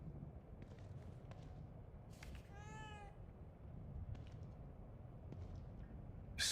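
A cat meows in the horror video game The Evil Within 2, one clear drawn-out meow heard alone over a quiet ambient hum, with faint soft shuffles around it.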